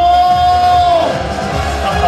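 A concert crowd cheers and shouts at a Korean regional singers' New Year festival show, a loud, continuous roar of voices over a fading sustained musical tone.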